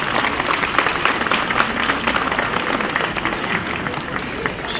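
An outdoor crowd at a Heroes' Day ceremony in Moinești applauds a nearly 100-year-old war veteran, a steady, lively clapping with some talk mixed in.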